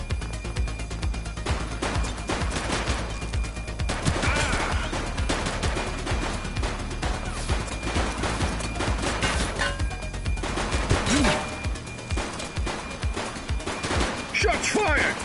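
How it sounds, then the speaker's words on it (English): Gunfire in the police video game The Precinct, dense and loud: rapid bursts and a fusillade of shots rolling through the whole stretch, with some voices mixed in underneath. "Shots fired!"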